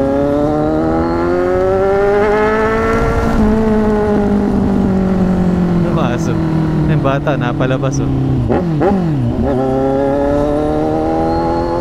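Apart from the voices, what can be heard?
sport motorcycle with aftermarket exhaust passing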